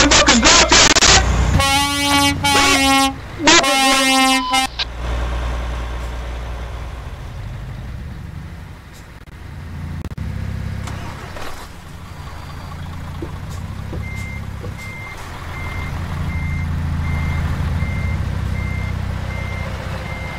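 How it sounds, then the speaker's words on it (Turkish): A truck on the road gives loud, rapid reversing beeps and blasts of its horn up close for the first few seconds, then a steady low traffic rumble continues on its own. "Araba tır gelebilir, tır geliyor"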